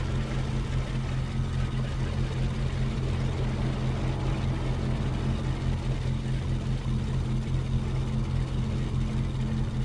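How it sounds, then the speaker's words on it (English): Ford Trimotor engines run in a flight simulator game, a steady, loud droning roar with a constant low hum throughout, no talking. "Here goes the middle engine, front engine."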